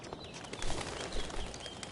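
In the video game Life Is Strange: Before the Storm, a bird takes flight with a soft, brief flutter and faint cooing, quiet against a light background hiss.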